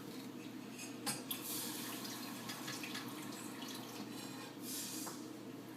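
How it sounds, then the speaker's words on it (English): Water poured into a hot, empty pot: a steady, close splashing and hissing pour running throughout, with brief sharper splashes along the way and no speech. "You want to quick put some water on there and not let the stuff burn hard."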